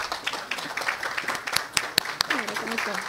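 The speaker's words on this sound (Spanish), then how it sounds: "Un aplauso para ella," An audience at a fisheries seminar breaks into scattered, moderately loud clapping that continues steadily, with talk heard over it.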